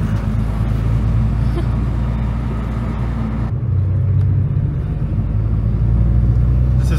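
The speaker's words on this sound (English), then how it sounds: "Driving an RX7 in Hakone." Mazda RX-7 FD sports car driving a winding mountain road in Hakone, Japan, heard from inside as a steady loud engine and road rumble that drops briefly midway before building again.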